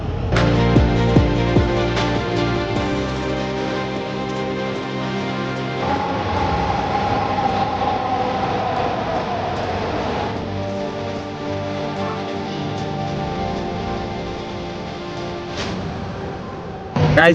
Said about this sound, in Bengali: মেট্রো স্টেশনে চলে আসলাম এটা হচ্ছে সচিবালয় মেট্রো স্টেশন